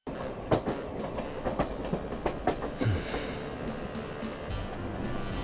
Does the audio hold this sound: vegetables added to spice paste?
no